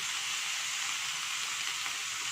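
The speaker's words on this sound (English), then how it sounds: "We'll let them cook on a slow flame till they are crispy. See there, the bacon is going to render some fat." Pieces of bacon frying slowly over a low flame in a pan, giving a soft, even, continuous sizzle up close with no voices.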